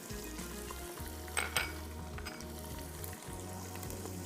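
Beef with spices, including kebab chini, long pepper and clove powder, is being fried for Irani tikka karahi, giving off a quiet, steady sizzle with a couple of brief clinks of a utensil stirring the pan.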